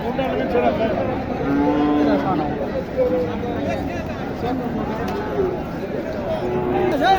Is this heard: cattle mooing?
yes